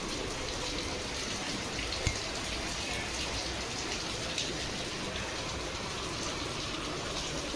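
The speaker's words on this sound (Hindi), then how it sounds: "तिरछी बारिश हो रही है, सूरज भी निकला हुआ है।" Steady slanting rain falls in sunshine with a constant hiss and scattered drips, fairly faint and unbroken throughout.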